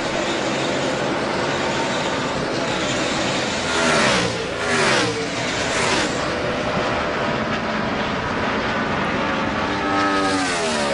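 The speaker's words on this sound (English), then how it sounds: "Three cars pull away, Johnson, Keselowski, and Kenseth" NASCAR stock cars roar past on the final lap of an All-Star Race, a dense, loud engine drone with rising and falling pass-by sweeps and crowd wash, no voices clearly heard.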